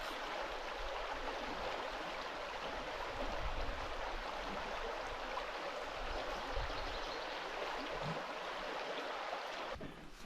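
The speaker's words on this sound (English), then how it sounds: "this is the river that leads us to Big Crow" A river flowing along a canoe route in Algonquin Park in spring, a steady broadband rush of moving water that holds an even level throughout with no voices.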